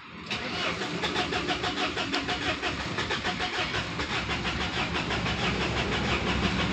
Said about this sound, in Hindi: हम इसकी चाबी ऑन करते हैं, उसके बाद सेल्फ लगाएंगे। देखिए गाड़ी स्टार्ट नहीं होगी दोस्तों।